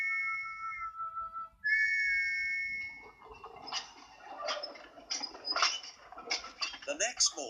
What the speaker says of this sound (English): But when Thomas fell asleep, he started to sleep whistle.